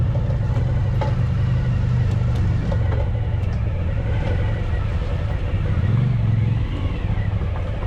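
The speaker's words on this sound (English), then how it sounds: "I hear bikes, so." Motorcycles on a forest road in the Ozark National Forest, a steady engine rumble with rising and falling revs as bikes ride by, loud and continuous throughout.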